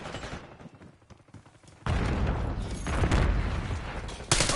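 Gunfire in the Black Ops 6 beta, a dense burst of rapid shots and impacts that jumps louder partway through and stays busy to the end.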